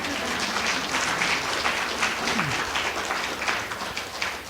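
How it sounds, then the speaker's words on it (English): An audience claps steadily and fairly loudly throughout, a dense wash of hands at a cultural gathering honoring a man presented as an apprentice in clan songs. "I'd like you to give him applause."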